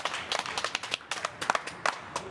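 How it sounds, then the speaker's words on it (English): Audience at a live show clapping in a fairly rhythmic, uneven pattern of sharp individual claps, moderately close, with no voices over it. "Hey, everybody clap."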